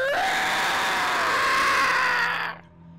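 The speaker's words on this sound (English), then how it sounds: "A scream or something rolled from deep in the tunnel." A loud, drawn-out scream echoing from deep in a tunnel, reverberant and hollow, sustained for a couple of seconds before cutting off into quiet.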